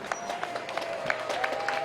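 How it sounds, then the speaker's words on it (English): Applause from a crowd at a polo club match honouring both teams, a dense spread of clapping mixed with faint chatter and a background tone, moderately loud throughout. "How about another round of applause for both our teams right there?"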